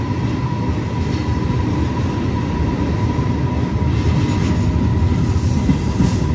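A passenger train running on rails between Pisa and Alessandria, heard from inside as a loud, steady rumbling roll with faint rhythmic wheel clatter and a light squeal, constant throughout.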